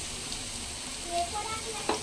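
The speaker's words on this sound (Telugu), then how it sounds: "ఇప్పుడు దీంట్లోకి జింజర్ గార్లిక్ పేస్ట్ వేస్తున్నాను" Ginger garlic paste frying with onions in a pan while mutton keema is being prepared, giving a steady low sizzle with a few brief stirring scrapes near the end.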